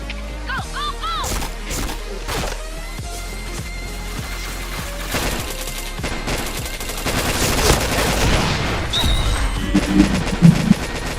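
Gunfire in a shooter video game rattles in rapid bursts over busy game sound effects and music, building louder toward the end.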